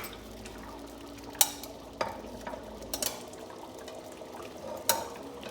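Liège meatballs being stirred in a thick sauce in a pot, soft wet churning and low bubbling with a few sharp spoon knocks against the pot's side, close and moderately quiet, no talk.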